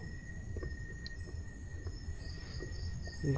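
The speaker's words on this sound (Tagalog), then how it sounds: "Kat maririnig niyo mga kuliglig." Crickets chirp faintly and steadily in a quiet night ambience in a forest, with a thin high insect drone running underneath.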